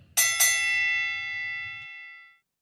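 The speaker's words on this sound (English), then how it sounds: "God, that bell is loud." A loud bell struck twice in quick succession, each strike clanging close and bright before a long shimmering ring decays over about two seconds, with no voices.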